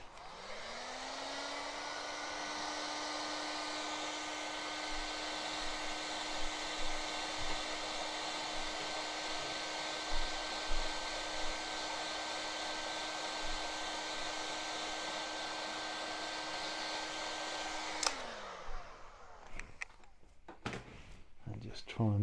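A heat gun blows steadily for about eighteen seconds to soften the roof section of a 1/6 scale Armortek Hetzer Jagdpanzer 38 tank model for bending. The loud, even whir then cuts off, leaving clattering handling noise.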